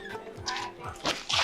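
An abandoned dog found in the middle of a road whimpers and yips at a horse shelter, short high whines and a brief bark rising over a faint murmur of voices nearby.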